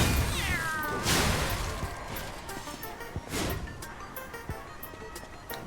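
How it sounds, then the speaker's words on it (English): A cat meows close by, with one clear rising-and-falling meow at the start and softer noises and faint knocks after it. "Why are you making me meow today, Beams?"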